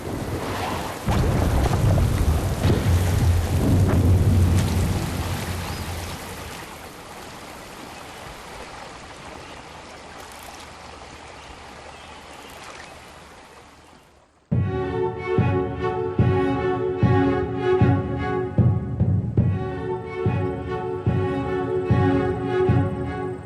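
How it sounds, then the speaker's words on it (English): Heavy rainstorm with thunder, a dense wash of pouring rain and deep rumbling that swells loud early on, then eases. About halfway through it stops abruptly and gives way to a different steady tonal sound. "A rainstorm can be deadly."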